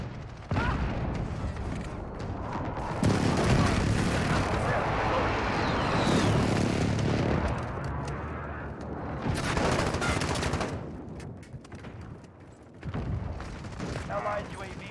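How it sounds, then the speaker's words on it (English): Heavy gunfire and booming precision airstrike explosions in the Call of Duty Modern Warfare beta, with loud bursts of rapid shots and blasts running almost continuously, briefly easing before another burst, with voices at times. "Enemy precision airstrike. Get down."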